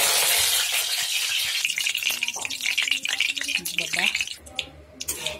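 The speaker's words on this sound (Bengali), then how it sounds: "এবার ভেজে নেবো কিছু কারি পাতা ভেজে নেব।" Curry leaves hit hot oil with a loud, spattering sizzle that crackles strongly at first, then settles into intermittent popping and scattered clinks, with a voice speaking partway through.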